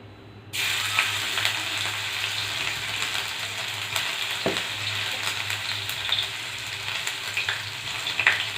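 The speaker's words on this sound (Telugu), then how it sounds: "ఆయిల్ హీట్ ఎక్కిన తర్వాత జింజర్ గార్లిక్ పీసెస్ వేసుకోవాలి" Ginger and garlic pieces go into hot oil for egg fried rice, and a sudden loud sizzle starts within the first second, then carries on as a steady close frying hiss with small pops.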